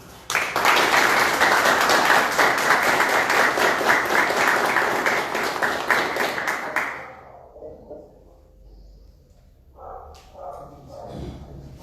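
A lecture audience claps loudly and steadily for the master at a library inauguration event, then the applause breaks off abruptly and leaves quieter scattered sounds, with a dog barking faintly in the background.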